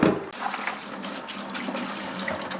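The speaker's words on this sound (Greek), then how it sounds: "Τώρα θα φύγω το νερό που τα έχω μουλιάσει και θα βάλω άλλο καθαρό" Soaking water is poured off chickpeas in a kitchen, a steady, close splashing stream that starts with a louder gush.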